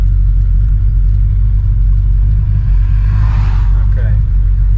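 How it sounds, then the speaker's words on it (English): A car approaches from behind on the road during a vintage-car rally, its engine rumble rising and swelling over the steady drone of the travelling car's own engine and road noise, with people talking. "we've got a car coming up behind us"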